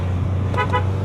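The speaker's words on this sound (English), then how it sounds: "See if the horn does work." An old Volkswagen GTI barn find sounds two short horn honks about half a second apart over a steady engine idle.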